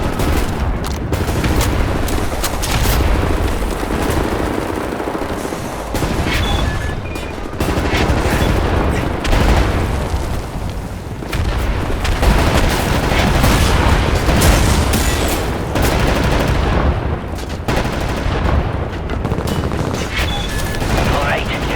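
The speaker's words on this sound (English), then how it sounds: "Right, lads, you ready to lay down suppressor fire?" Heavy suppressing fire in the video game Wolfenstein: The New Order, with continuous loud machine-gun bursts and booming explosions that roll on for over twenty seconds and pause only briefly.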